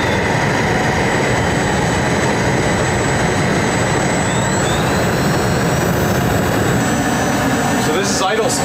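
A jet thruster mounted on a sledgehammer roars loudly and steadily, a dense continuous blast close by, with a slight shift near the end.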